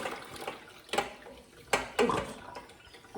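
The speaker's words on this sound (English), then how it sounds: "So now I'm going to pour it in and hopefully no fish spills out." Water with salt fish poured into a container in a home kitchen, heard as a few short splashing gushes and sloshes at close range with no talk.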